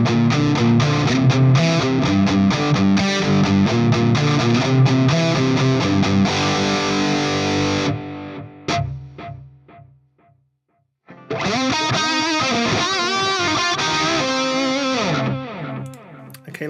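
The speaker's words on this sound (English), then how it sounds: "Let's go for the DM2 based on the Boss DM2" Distorted high-gain electric guitar played through a Fractal FM3 with a Boss DM2-style analog delay, chugging chords and riffs with audible repeats, a short pause with a trailing echo, then another loud burst of playing.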